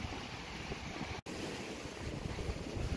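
Surf washes onto a beach in a steady broadband rush of breaking waves mixed with wind buffeting the microphone, continuous and close, with one brief dropout partway through.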